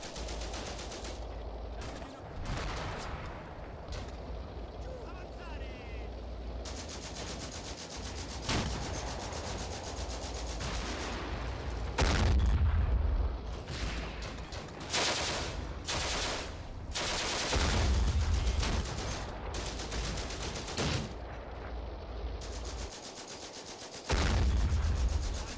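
Scattered gunfire from Combat Mission: Afrika Korps, including anti-tank rifle shots, comes as sharp irregular cracks and bursts over a rumbling battlefield background, with several heavier thumps standing out.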